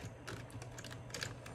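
Computer keyboard keys pressed while playing Roblox Bloxburg, a quick uneven run of close, crisp clicks over a low steady hum, with no talking.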